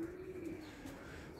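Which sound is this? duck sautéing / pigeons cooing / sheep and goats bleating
pigeons cooing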